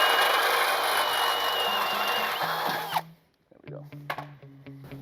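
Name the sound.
drill bit drilling through frame bracket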